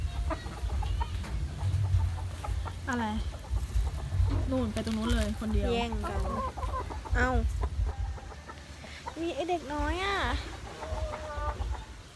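Hens clucking and fussing while being fed broken rice grains, close by, with someone talking over them throughout.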